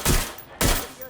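Two heavy gunshots in the Watch Dogs: Legion video game, loud and close, spaced about half a second apart, each with a quick decaying tail.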